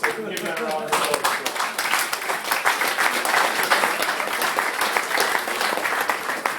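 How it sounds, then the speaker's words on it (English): Wedding guests at a best man speech in a hotel break into steady applause, dense clapping close by that carries on throughout, with a brief voice at the start. "give them a round of applause"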